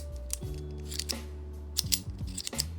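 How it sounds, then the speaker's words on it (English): Ink refill being screwed into a TiScribe Bolt V2 pen, making small close metallic clicks and ratcheting scrapes in short bursts over a quiet background. "goes in with the screw and the cap or the pen tip. Just screw it in."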